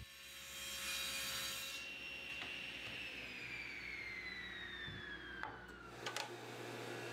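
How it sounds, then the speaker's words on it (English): Wooden legs for an outdoor garden bench being cut to rough length with a power saw in a workshop: a quiet, steady whine of the blade, slowly dropping in pitch under load, with a few soft knocks near the end. "I'll get started with the legs, cutting them to a rough length, and then squaring them up to 1 3/4 inches"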